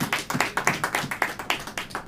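Rhythmic clapping from a church congregation during a Hindi sermon, about eight even claps in two seconds, steady and close, with no voices over it.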